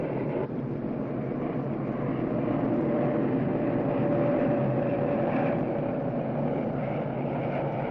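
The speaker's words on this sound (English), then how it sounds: "And then there are the B-52 bombers striking from nearby Thailand" B-52 bomber aircraft rumble overhead, a steady heavy engine drone that holds at moderate loudness for several seconds, alone without voices.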